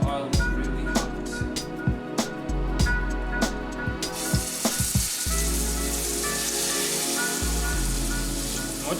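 Food lowered with tongs into very hot oil in a pot for a home dinner bursts into a loud, steady sizzle that hisses on close by, with several sharp knocks of the tongs against the pot early on.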